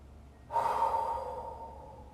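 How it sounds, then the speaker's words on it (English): A single deep breath taken during a yoga session, a soft, close inhale that swells suddenly and then tapers slowly. "Take a deep breath here."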